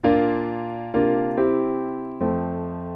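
Four piano chords in a 4-5-1 progression with a suspended 5 chord are struck one after another at a moderate pace, each ringing and decaying gently before the next.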